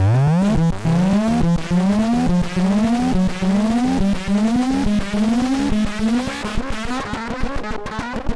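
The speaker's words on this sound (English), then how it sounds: "as you can hear, some really cool blends of different types of distortions" A heavily distorted synthesizer tone blending several types of distortion, loud and gritty, plays a repeating pattern of rising, gliding notes that sweep upward again and again without pause.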